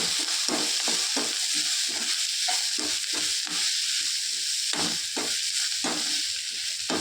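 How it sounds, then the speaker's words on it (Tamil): Banana flower sautéing with turmeric in a pan, a continuous sizzle broken by a rapid series of rhythmic stirring scrapes and taps, close and unaccompanied by talk. "மஞ்சத்தூள், நல்லா கொஞ்சம் வதக்கிக்குவோம்"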